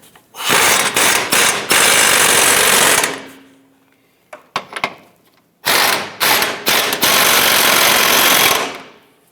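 An impact wrench tightens rear subframe bushing bolts on a 2008-2013 Nissan Rogue, rattling in loud, close bursts with short gaps between them.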